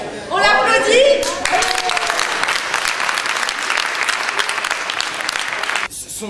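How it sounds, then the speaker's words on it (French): An audience at a forum theatre performance breaks into loud, sustained applause after a brief opening of voices, many hands clapping evenly until it cuts off abruptly near the end. "on l'applaudit"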